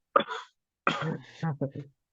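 A single sharp cough from choking on saliva, then a strained, choking rasp with a few short gasping bursts, close to the microphone.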